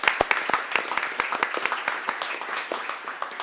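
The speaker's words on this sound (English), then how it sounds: "So please join me in giving all of these employees a round of applause." Applause from a city council meeting audience honoring city employees, including a fire engineer; a modest room of hands clapping with distinct sharp claps, fairly close and steady over a few seconds.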